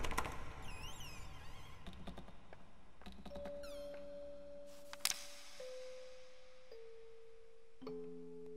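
Cat meows inside the horror video game Layers of Fear, a few short pitched cries near the start over a dark tonal game soundscape with chimes and sustained notes, no talking.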